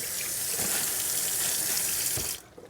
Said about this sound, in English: I just run them under water